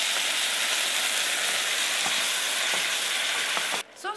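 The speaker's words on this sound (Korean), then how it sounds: "소스를 넣어주세요." Sweet and sour pork sauce hits a pan with garlic, carrot and apple, making a dense, loud sizzle punctuated by a few stirring scrapes before cutting off abruptly near the end.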